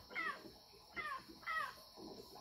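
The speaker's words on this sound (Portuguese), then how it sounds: "Olha o barulho aqui de um pássaro" A crow caws three times in a rough, evenly spaced series, with a fainter fourth call at the end, somewhat distant over outdoor background noise near a spring feeding water into a drum.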